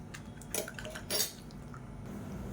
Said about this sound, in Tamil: மஞ்சள்தூள் சேர்த்து கலந்து விட்டுக்கலாம்.